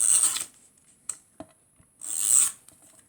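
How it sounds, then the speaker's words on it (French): Sheets of paper are rubbed down firmly to glue them onto a handmade card, giving two longer rasping strokes separated by a few short scrapes and taps, close and without talk. "Alors là, je viens coller tous mes papiers."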